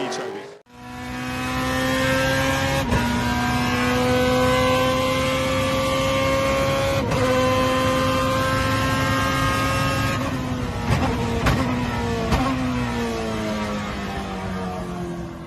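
BMW M3 GTR race car accelerating hard, a loud close engine howl climbing through several gears with sharp breaks at each upshift.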